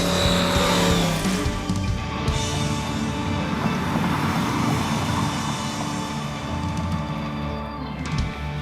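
A supercharged Ford Thunderbird pulls hard in third gear on a cold winter road, its loud engine roaring steadily and close with a brief shift-like dip and no talk.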